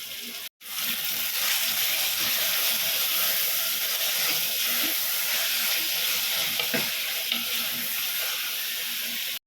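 Garlic and green chillies sautéing in hot oil in a pan for a prawn curry, a loud, steady sizzle and hiss running unbroken for several seconds, with a sharp break near the start.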